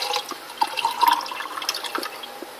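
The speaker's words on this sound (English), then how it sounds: "And I'm going to pour the water into here." Water poured into a container of soaked grapes, with light splashing and dripping trickles that rise and fall over a couple of seconds.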